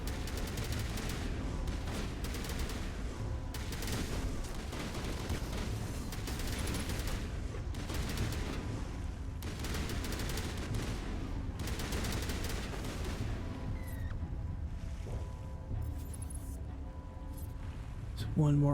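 Sustained gunfire from the Mass Effect 1 video game runs through the whole stretch, dense bursts of shots layered over game sounds and voices talking, with a loud hit near the end.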